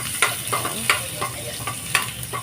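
Garlic frying in cooking oil for ginataang langka, a steady sizzle broken by regular scraping clicks of a spatula stirring the pan.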